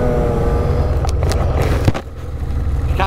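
A Thundercat snowmobile carving along a snowy trail, its engine droning steadily with a few brief swishing surges and a short dip in loudness near the end, nearby and fairly strong.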